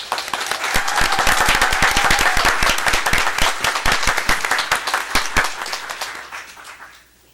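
A large audience at a school board meeting breaks into loud, sustained applause congratulating a national champion hip hop dance team, dense clapping building quickly, holding for several seconds, then thinning out and fading to quiet.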